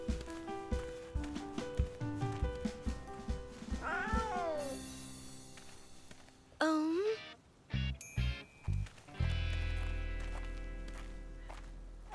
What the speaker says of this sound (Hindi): बाय बाय छोटू सी प्यारी बिल्ली।